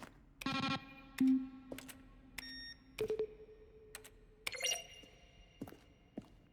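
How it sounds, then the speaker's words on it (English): Button-press sound effects from the video game The Stanley Parable Ultra Deluxe, each mixing a keyboard stroke with a tonal beep, play as a series of sharp separate clicks with short ringing tones between quiet gaps. "Each sound is a mix of a keyboard stroke."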